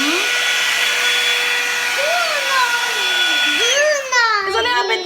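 A marble hair dryer runs on its high setting with a steady, loud whine and airy rush. Someone talks over it, and the pitch shifts near the end as the setting is changed.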